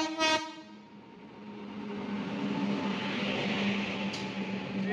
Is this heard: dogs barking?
no